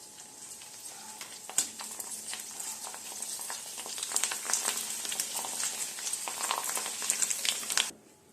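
Finger pappad fries in hot oil with a busy, close crackling sizzle, broken by sharp stirring clinks, before the sound cuts off abruptly near the end.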